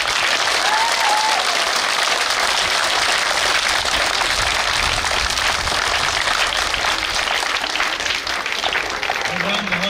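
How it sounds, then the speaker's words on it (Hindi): A school audience at a Dussehra celebration applauds loudly for the teachers, a thick, sustained wash of clapping from many hands, with a voice briefly heard near the end. "चलिए सारे टीचर्स के लिए बहुत जोर से तालियां बजाएं।"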